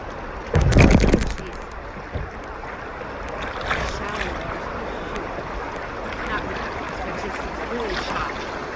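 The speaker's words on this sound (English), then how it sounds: "we're coming up on some rapids again." Kayak moving through river rapids, a loud splash and paddle knock near the start followed by steady rushing, churning water with wind, and people talking over it.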